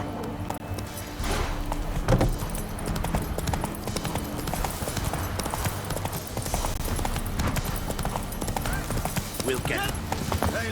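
A horse gallops in The Witcher 3, its rapid, rhythmic clip-clop hoofbeats running steadily and close under game music and ambience, while voices speak intermittently.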